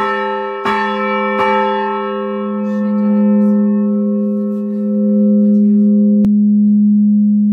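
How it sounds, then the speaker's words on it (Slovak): A church bell in the tower of Kremnica castle, swung by pulling its rope, rings with two sharp strikes early on and a later one, each leaving a long, loud, reverberant humming tone that sustains throughout. "potiahol som takto lano a zazvonil som na tomto zvone"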